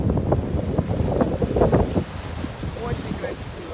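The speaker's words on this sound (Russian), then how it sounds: "Море так разбивает. Прям волны, посмотрите." Sea waves breaking on the shore, a rough rushing wash heard under heavy wind buffeting the microphone, louder at first and then easing slightly.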